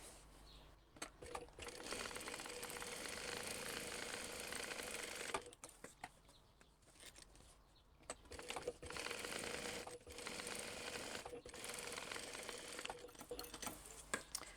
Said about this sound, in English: The machine sounds like it needs oiled.